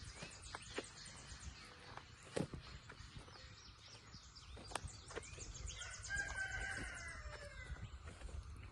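Roosters crow at a distance over a faint outdoor background of clucking fowl and other birds, with a longer crow rising toward the end.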